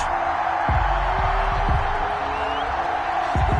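Steady roar of a stadium crowd in a PS4 football game ahead of a New Orleans Saints versus Denver Broncos matchup, a constant dense wash of cheering with a few low thumps and no voices standing out.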